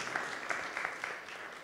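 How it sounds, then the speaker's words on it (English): Faint audience applause follows a startup pitch at a conference showcase, with scattered claps over a soft, steady patter from a distant crowd. "Big round of applause."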